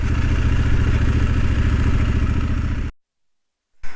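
A motorcycle engine idles steadily up close while being parked, a low rumbling throb, then cuts off abruptly and leaves silence before a brief bump at the end.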